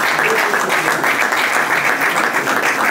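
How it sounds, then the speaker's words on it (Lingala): A crowd at a church assembly applauds steadily, dense continuous clapping filling the room at high volume for the full stretch, with no break and no voices standing out. "et on l'acclame toujours"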